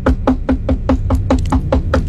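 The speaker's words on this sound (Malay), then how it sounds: "Pintu ditutup, kakak ketuk." A closed door is knocked on about nine times, steady loud close raps evenly spaced with no voice over them.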